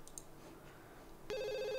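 A telephone rings in The Sims 2, the steady electronic ring cutting in sharply near the end after faint game ambience, loud and close with no talk over it.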